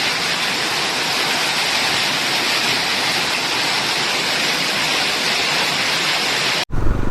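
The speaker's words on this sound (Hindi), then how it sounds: "यहाँ पे बारिश हो रही है गाइस इतनी तेज।" Heavy mountain rain near Karnaprayag on the road to Tungnath pours in a loud, unbroken roar that fills everything for nearly seven seconds before a sudden break.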